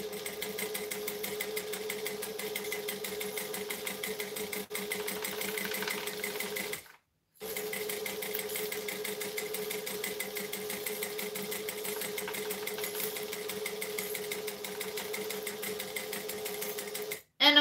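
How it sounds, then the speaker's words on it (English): A sewing machine top stitches an eighth of an inch from the fabric edge, running in a steady, close, continuous whir for several seconds, pausing briefly near the middle and again at the very end. "Now I'm going to top stitch an eighth of an inch because I want to get close to the edge so it's not going to flap open."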